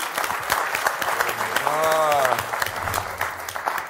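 Studio audience applause at a Georgian stand-up comedy contest, steady clapping throughout with a brief swell in the middle while other sounds overlap the clapping.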